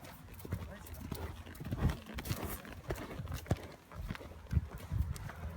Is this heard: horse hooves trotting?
yes